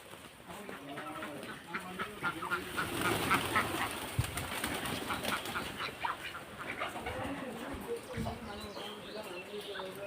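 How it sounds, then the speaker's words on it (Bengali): Ducks quack repeatedly on a farm kept with pigeons and chickens, mixed with other bird calls in a busy outdoor yard, while people talk nearby. "এই যে এখানে হাঁস,"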